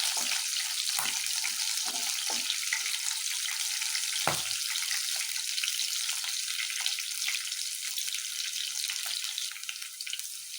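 Green chillies and garlic sizzle steadily in a hot pan, a bright, continuous hiss with a few soft stirring knocks early on, close and fairly quiet with no talking.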